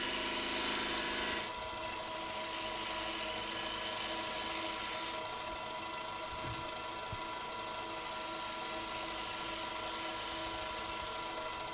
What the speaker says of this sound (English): I'm going to do that by just dropping the tool handle down and just skimming away from the chuck